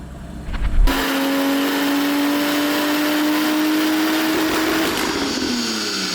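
A tuned car engine rated at 750 bhp, making 500 brake horsepower and 650 Nm of torque and tapping out at the top end, screams under load on a dyno in a loud, rising sustained pull after a brief initial burst, with no talk.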